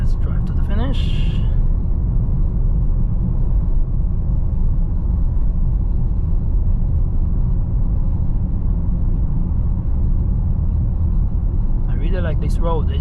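A 2021 Range Rover Sport with a supercharged V8 cruises along with a steady low road rumble and engine drone heard from inside the cabin, while brief voices come through at the start and end.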